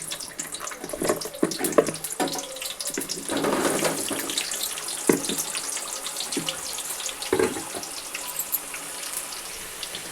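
Gooseberries fry in hot oil in a pan for a pickle, making a continuous close sizzle broken by scattered sharp pops and crackles, with no voices.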